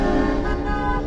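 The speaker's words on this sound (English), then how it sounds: "he honks that dang thing" A car horn blares in one sustained, steady blast lasting about a second, loud and close, over low road rumble.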